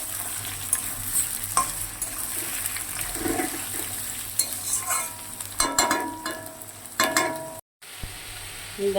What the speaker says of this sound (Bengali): দেখো আমার এদিকে পেঁয়াজ আলু সবটাই ভাজা ভাজা হয়ে গিয়েছে, লাল লাল ভাজা হয়ে গিয়েছে।